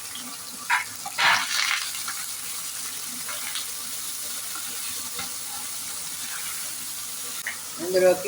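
Onions and green chillies fry with salt in a pan, a steady close sizzle with stirring scrapes, a few louder clatters, and a brief spoken word over it.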